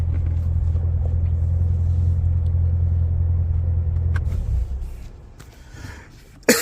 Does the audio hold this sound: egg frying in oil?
no